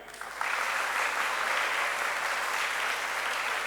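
A school summer camp closing-ceremony audience claps harder on request, a dense, loud, sustained burst of applause that swells after a quiet start and holds steady throughout.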